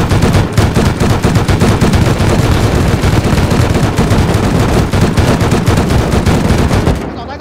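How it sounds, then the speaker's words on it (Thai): Loud, rapid turret gunfire in a video game, a sustained stream of sharp automatic shots that stops abruptly near the end. "ยิงป้อมปืนอยู่ยิงป้อมปืนใหญ่เลย"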